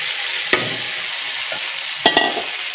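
Ginger-garlic paste fries in a pan with a steady bright sizzle, broken by a few sharp scrapes of stirring, close and alone.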